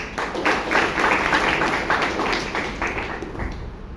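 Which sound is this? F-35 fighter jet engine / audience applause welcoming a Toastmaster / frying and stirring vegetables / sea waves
audience applause welcoming a Toastmaster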